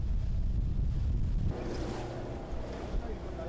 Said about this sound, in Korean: 심한 파도와 강한 바람을 헤치고 밤새 달려온 뱃길.